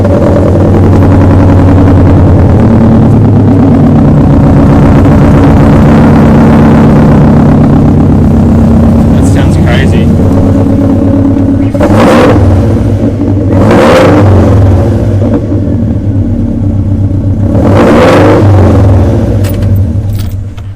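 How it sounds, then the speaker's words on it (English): A Subaru GC8 engine, run without a muffler, cranks and roars to life, running loud and raspy with a couple of sharp revs rising over a rough, rumbling idle. "I might actually start up the car without a muffler and just see what it sounds like"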